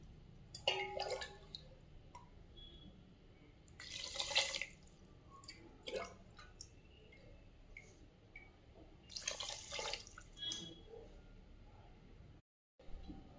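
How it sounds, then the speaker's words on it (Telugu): Water splashes and trickles into a vessel in a few short bursts, three glasses poured for cooking capsicum rice, with quiet dripping and handling noises between pours. "మూడు గ్లాసుల వాటర్ పోసుకుంటాను"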